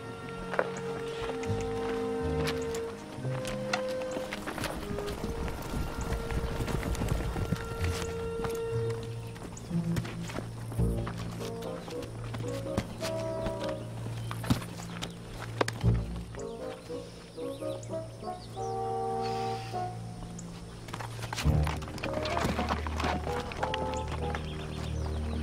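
Horses' hooves clip-clop at a walking pace across a long stretch of adventure-show scene audio, irregular and moderately near, mixed with rustling, movement and brief background sounds, with little talk.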